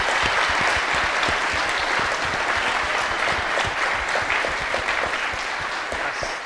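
A conference audience at DevConf.CZ 2023 gives a round of applause for the speakers, loud and continuous clapping with some nearer, sharper individual claps, easing off slightly toward the end.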